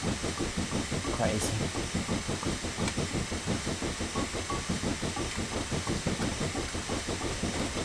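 Steam locomotive chuffing along a heritage railway line in the Railworks 3 train simulator, a fast regular beat of exhaust puffs over a hissing rumble, with someone talking briefly over it.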